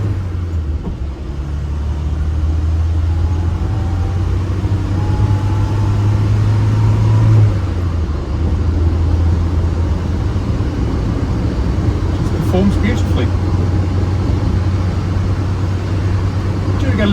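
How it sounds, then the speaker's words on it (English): A restored 1975 BMW 1602 drives along with a steady low engine rumble and rushing wind noise around the door frames and quarter lights, the drone holding constant throughout. "little bit of wind noise from around the door frames"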